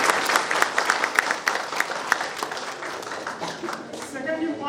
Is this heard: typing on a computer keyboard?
no